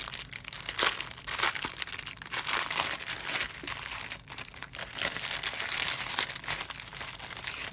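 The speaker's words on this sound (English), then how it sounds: "all of the envelopes are in this plastic cellophane wrap" Plastic cellophane wrap around a pack of cash envelopes crinkles and crackles loudly and close up as it is handled and torn open, in dense irregular bursts with a brief lull midway and no talking.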